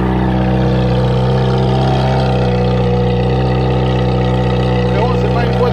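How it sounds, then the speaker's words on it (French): A loud, deep Ferrari engine idles steadily up close with a constant low throb and a faint rise in pitch near the end; voices murmur underneath. "T'entends le ralenti."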